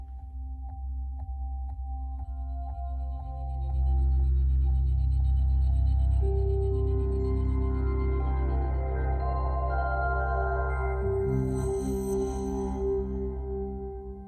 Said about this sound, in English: Just a moment while I tune your Echo to match the acoustics of this room.